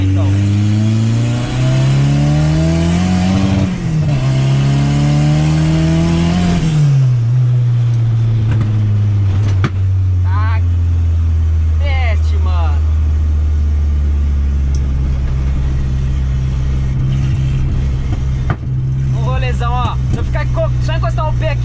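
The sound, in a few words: turbocharged VW Gol engine revving with popping from the exhaust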